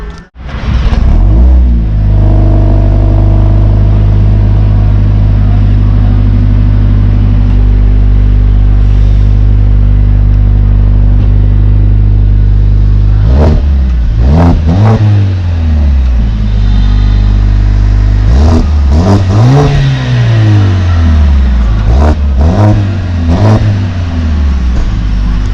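Mercedes-AMG A45 S performance hatchback engine idling with a steady low drone, then revving hard several times in rising and falling sweeps, loud and close with no talking.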